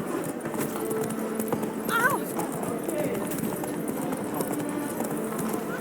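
Horse hooves clip-clopping in The Witcher 3, a steady trotting rhythm of hoof beats on the ground throughout, with a brief whinny midway and a voice talking over it.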